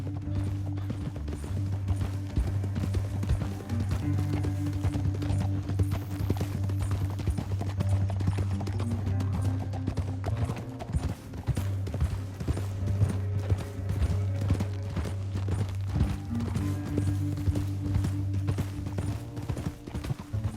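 Horses moving at speed in the video game Red Dead Redemption 2, a steady run of hoof clip-clops over a low droning game soundtrack throughout, moderately close and continuous without pause.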